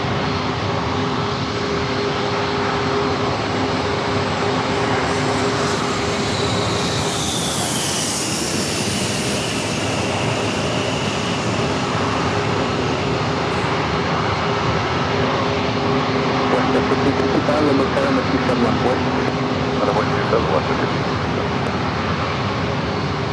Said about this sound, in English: we got another corporate jets short final for runway 27